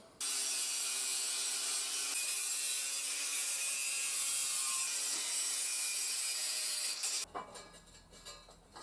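A hand saw cutting through wood for a trestle, a steady loud rasping stroke sustained for about seven seconds before stopping, followed by quieter handling noises.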